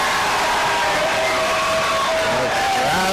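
A loud crowd cheers and shouts in a gym after a shot at a boys' high school basketball game between Memorial and Trinity, a steady roar of voices sustained throughout with whoops rising near the end.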